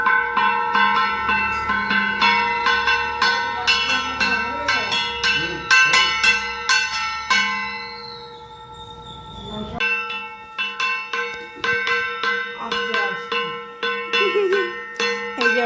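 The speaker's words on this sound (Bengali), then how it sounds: "ঘন্টা বাজাবে বাজাও ঢং ঢনা বাজাও" A child rings a small hand bell during a Bengali puja at home, a steady run of bright metallic clangs that pauses briefly midway before the ringing resumes, loud and close.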